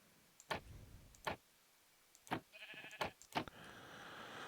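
Several sharp ticking clicks sound in sequence, with a short, buzzy bleat from a goat in between, in the video game Minecraft.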